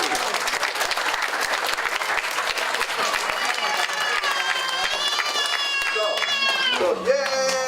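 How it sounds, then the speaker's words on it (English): Families at a 2018 summer reading and exercise program ceremony get loud, dense applause from the crowd, with children's excited voices cheering and shouting over the clapping toward the end. "Let's have a round of applause for your families."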